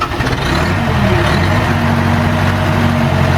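An old engine on a junk machine catches and settles quickly into a loud, rough, low idle that rumbles steadily close by.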